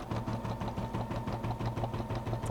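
An embroidery machine runs a basting stitch to hold fabric on a bag in place, giving a steady, close mechanical whir with a fast, even stitching rhythm throughout.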